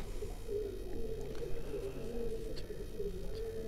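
Pigeon cooing from a champion double-flight racing pigeon, low steady coos repeating throughout with a faint hum and light background noise, no talk.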